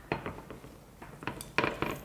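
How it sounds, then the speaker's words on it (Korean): Metal utensils clink and scrape against plates as goat bulgogi is served onto a dish. Irregular sharp taps and knocks come close by at a moderate level, with no one talking. "제가 완성 접시에 예쁘게 한번 담아 보도록 하겠습니다"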